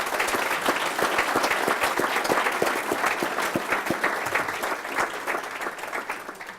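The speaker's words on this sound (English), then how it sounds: "So one more round of applause for all the finalists" A large audience applauds steadily for award finalists at the 2018 MIT Sloan CIO Leadership Award ceremony, dense sustained clapping that holds for several seconds before tapering slightly.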